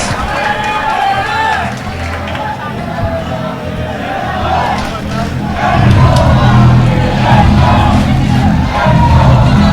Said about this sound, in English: you're hearing it from the crowd here